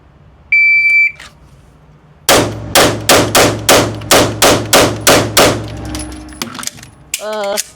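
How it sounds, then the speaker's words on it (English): Sharp, loud metallic clacks from a MAC 9 DS Comp 2011-style airsoft pistol, a rapid even string of about eleven cracks after an electronic beep, followed by a few softer handling clicks and a warbling tone. "Let's do that reload again."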